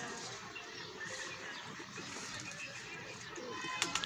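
A high-quality village pigeon coos softly close by amid faint outdoor background noise and light chirps, with a few sharp clicks near the end.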